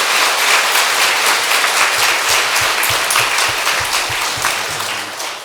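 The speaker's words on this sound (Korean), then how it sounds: "우리 박수 한번 하나님께 칩시다." Church congregation applauding during a Sunday morning service, a loud dense burst of many hands clapping that tapers off toward the end, with no talk.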